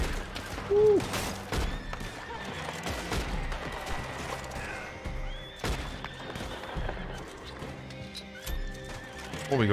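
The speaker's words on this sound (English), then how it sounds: "Is that a horse? I don't want to shoot the horse." Horse neighing in the video game Red Dead Online, a loud whinny early on amid hoofbeats, scattered gunfire and a busy game soundscape, with voices talking over it.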